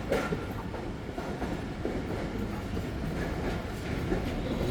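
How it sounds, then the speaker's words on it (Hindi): Passenger train rolling through Shidatpur railway station on the Rohri to Hyderabad line, a steady, loud rumble of railcars with rhythmic clickety-clack from the wheels over track joints and a faint squeal, with no voices. "ट्रेन पास कर रही है शिदातपुर रेलवे स्टेशन"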